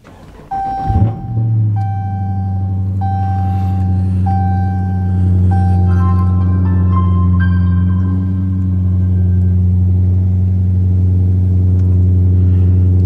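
A car engine, started with the foot on the brake, cranks with a sharp burst and then settles into a steady, loud idle rumble, while a series of electronic chimes and beeps sound over it during startup.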